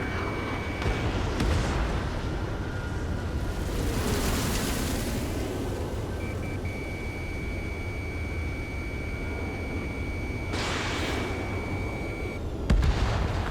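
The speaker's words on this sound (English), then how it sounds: "Missile launched." Missile launches and explosions in the Ace Combat 7 jet combat game, heard as booming blasts and whooshes over a steady roaring wash, with a sustained tone in the second half.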